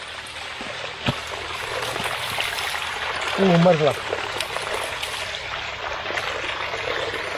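A stream runs over black rocks in Scotland, giving a steady close wash of flowing water while someone speaks over it.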